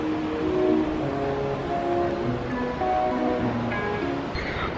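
Ocean waves wash steadily onto Ashwem beach in Goa, a continuous close surf hiss with soft rolling swells and no talk.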